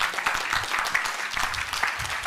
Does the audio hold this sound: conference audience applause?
yes